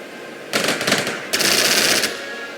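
Automatic gunfire in the Strategic Mind war strategy video game: two loud, close bursts of rapid machine-gun fire, each lasting under a second, with a short gap between them.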